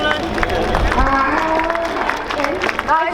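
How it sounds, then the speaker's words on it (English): Spectators at the Dunsfold Wings & Wheels 2014 air show cheer and clap in a lively, continuous wash of crowd noise, with scattered whoops and a voice calling out over the applause. "Give them a round of a cheer"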